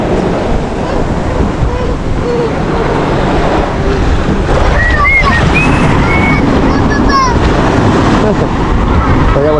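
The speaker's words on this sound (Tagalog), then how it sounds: "So very it's a big wave." Big ocean waves wash against a boat in a steady, loud roar of surf and wind buffeting the microphone, with people talking and calling out over it.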